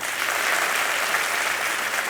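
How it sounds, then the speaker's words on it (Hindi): Studio audience on the KBC quiz show set applauding a contestant's wife, a dense, steady wash of clapping from many hands, loud and unbroken for about two seconds with no voices over it. "तालियां बज जाएं इनके लिए।"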